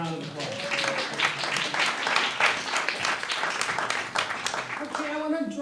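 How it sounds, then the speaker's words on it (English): An audience at a poetry and music night applauds a performer named Lynn, steady clapping sustained throughout with faint voices underneath and a few tonal calls near the start and end. "give Lynn another round of applause"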